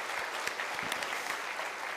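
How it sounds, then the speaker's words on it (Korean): A church congregation applauding warmly, dense steady clapping from many hands filling the room throughout. "우리 뜨겁게 박수로 그들을 격려하겠습니다"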